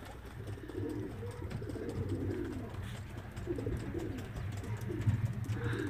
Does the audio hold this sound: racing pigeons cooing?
yes